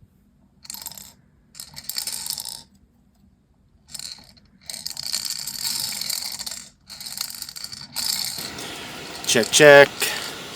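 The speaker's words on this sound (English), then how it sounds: "Well, we definitely have something on the rattle reel here." A rattle reel on an ice fishing line for walleye goes off inside a flip-over ice shack at night, with sporadic close clicking and rattling bursts that end in a sharp ringing rattle. Someone speaks briefly.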